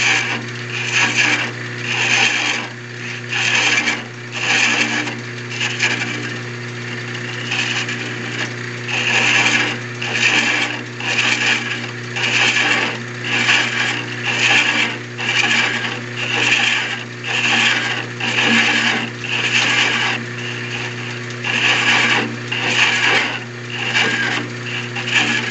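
Threads being cut by hand with a one-handed tool, a steady run of rhythmic rasping, ratcheting strokes repeating about every second over a constant low mechanical hum, with no talking.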